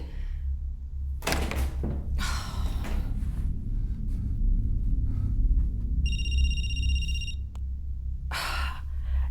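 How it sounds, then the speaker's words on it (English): Dull thuds of banging on the walls in a house down the hall, several heavy knocks in irregular bursts over a low rumble, with a brief electronic beeping partway through. "you're banging on the walls"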